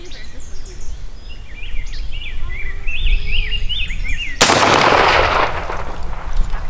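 A Mossberg 500 20-gauge pump shotgun fires a single Fire Hevi-18 number 9 shell outdoors. One sharp, loud blast with a ringing decay cuts in after a stretch of chirping birds.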